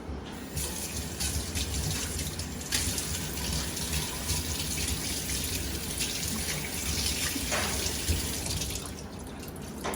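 Tap water runs steadily into a sink to soak a towel, a continuous close splashing stream with small drips and shifts in flow, no talking.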